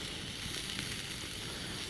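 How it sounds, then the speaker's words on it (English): Food, with American cheese, sizzles steadily in a cast iron pan at a solo desert campsite, a close, even hiss that runs throughout with no talking. "So I can hear it sizzling in there."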